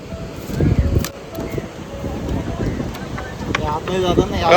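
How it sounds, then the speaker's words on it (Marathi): Strong monsoon wind buffets the microphone at the seaside Harnai fish auction market in Maharashtra, a loud, continuous, gusty rumble lasting throughout, with voices speaking faintly underneath. "खतरनाक वारा आहे आवाज येतो की नाही माहीत आहे"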